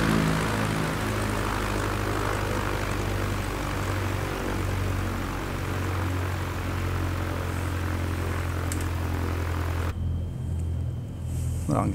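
Propeller engine of an ERCO 415 in Microsoft Flight Simulator, a steady droning hum with low rumble that holds for most of the clip, then drops off sharply as the throttle is cut near the end.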